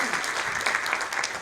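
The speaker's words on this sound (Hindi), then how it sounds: "जोरदार ताली से स्वागत करें उनका।" An audience at a Hindi kavi sammelan poetry and music event applauds loudly, dense sustained clapping from a large crowd, close and steady throughout.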